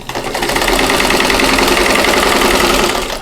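A sewing machine stitches squares onto a California quilt block, its steady close-up motor whir and needle rattle running continuously for a few seconds with no voices.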